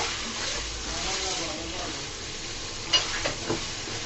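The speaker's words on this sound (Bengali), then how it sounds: "ভেজে রাখা পটলগুলো দিয়ে দিলাম। দিয়ে আবারও নাড়াচাড়া করে দিব।" Potatoes and fried pointed gourd are stirred together in a hot pan, a steady close sizzle with stirring scrapes and a few sharper spoon knocks near the end, with a voice talking over part of it.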